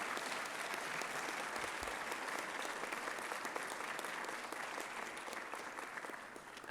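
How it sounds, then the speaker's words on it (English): Sustained applause from an audience at an award ceremony, a steady dense wash of many hands clapping that holds evenly and eases slightly at the end. "Can we just give them another round of applause?"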